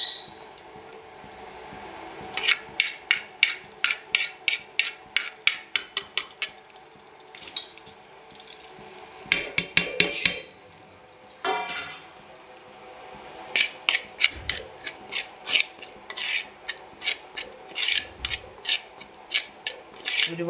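Chilies roasting and being stirred in hot coconut oil in a clay pot, heard as bursts of sharp scraping and rasping strokes of a spoon against the pot, close and fairly loud, with short pauses between rounds.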